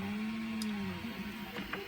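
A 3D printer runs in the background while printing a Dalek part, giving off a steady, continuous whir of stepper motors with a sustained low hum and a few faint shifts in pitch.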